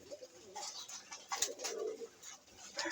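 Pigeons cooing inside a loft, soft repeated low coos from several birds close by, mixed with faint wing flutters and shuffling.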